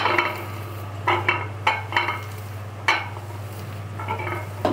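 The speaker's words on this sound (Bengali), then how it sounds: "এটাকে আমি একটু মাখায় নিই।" Utensil scraping and clinking against a bowl while dried fish paste with sesame is mixed by hand with salt, turmeric and coriander powder, in irregular close scrapes over a steady low hum, no talking.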